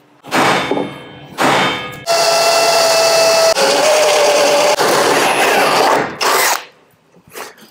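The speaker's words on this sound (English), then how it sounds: "center punch, pilot, and drill out" A power drill bites into galvanized metal in loud grinding bursts during a Land Rover 110 build: two short runs, one long sustained drilling stretch with a whine, then another brief burst.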